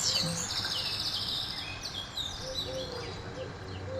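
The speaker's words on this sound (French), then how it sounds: "Écoutez le bruit des oiseaux." Birds chirp and sing outdoors in a calm, grassy setting, a steady layer of high tweets and calls over soft ambience, moderately near and continuous throughout.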